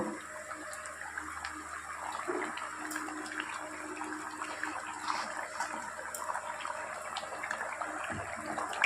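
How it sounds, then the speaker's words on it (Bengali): Curry gravy for a traditional Bengali pumpkin and Malabar spinach dish simmering in a pan, a soft continuous bubbling and watery burble at moderate level, with no talking. "এবার ঝোলটা আরেকটু ফুটিয়ে নেব।"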